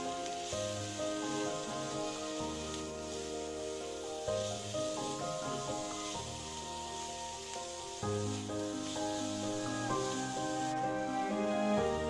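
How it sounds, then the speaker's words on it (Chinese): Jicama filling stir-fried with pepper and oyster sauce gives off a steady, soft hiss of sizzling, mostly buried under music, with no talking. "再1大匙蚝油，然后再将所有食材炒香炒匀"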